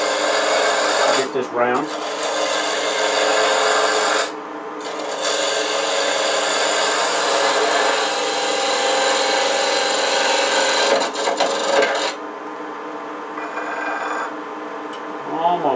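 A 3/8-inch spindle gouge cuts a maple coffee scoop spinning on a lathe, giving a steady rasping, scraping drone with a few brief pauses where the tool lifts off; someone speaks briefly over it.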